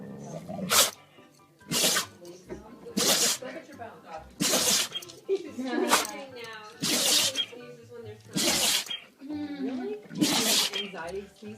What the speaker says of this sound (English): Anxiety sneezing?